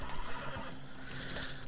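A horse whinnies over a dense, noisy background of game sound in Red Dead Redemption 2, moderately loud and brief.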